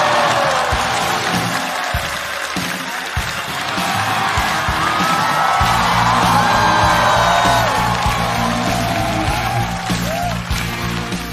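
A stand-up comedy audience applauds as a comedy duo is welcomed on stage, with dense clapping mixed with whoops and cheers that swell and hold throughout.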